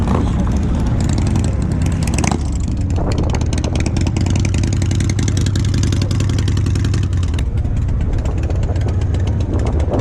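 A Harley-Davidson Road Glide motorcycle riding along, its engine rumbling loudly and continuously with a rev change partway through, accompanied by wind buffeting and clatter.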